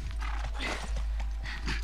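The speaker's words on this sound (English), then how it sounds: "Just get the horse." A horse in The Last of Us game trots with rhythmic hoof clip-clops, fairly close and steady over a low rumbling background.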